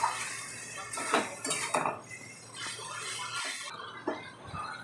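Taro stolon curry being stir-fried in a pan with salt and turmeric: a metal utensil scrapes and clatters against the pan in a few loud strokes over a faint background hiss.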